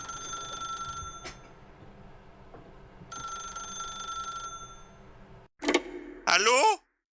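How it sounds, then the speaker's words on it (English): Two short bursts of an old-style telephone bell ringing at the end, after quiet ambient hum and tones from The Stanley Parable video game, loud and close. "then pick up the phone."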